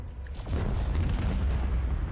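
Macro cannons firing in Rogue Trader, a heavy deep boom rolling into a sustained rumbling blast, loud and close with no voices over it.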